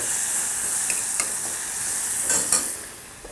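Ginger and chilli sizzle in hot oil in a pan on lowered heat, a steady close hiss broken by a few soft stirring scrapes and spatters.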